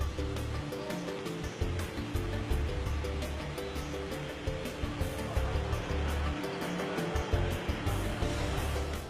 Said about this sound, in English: I'm going to squirt a bunch of water into this washcloth.